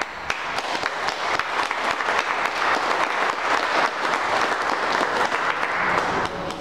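A crowd at an outdoor community event for a road railing project claps steadily, a thick continuous burst of applause with individual claps standing out, no speech over it.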